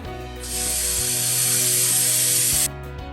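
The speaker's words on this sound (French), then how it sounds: "je vais remplir à peu près au niveau des légumes avec de l'eau" Water pours from a tap into a pot of vegetables, a loud, steady rushing hiss that lasts about two seconds and then cuts off, with a low hum beneath it and no talking.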